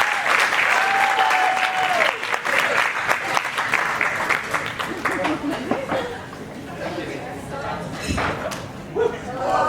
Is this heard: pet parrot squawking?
no